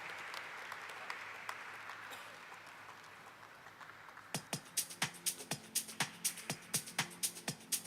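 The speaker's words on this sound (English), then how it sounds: "Round of applause, please." Audience applause at the Eureka Forbes Limited listing ceremony: soft crowd clapping, then loud rhythmic, fairly close clapping in a steady beat toward the end.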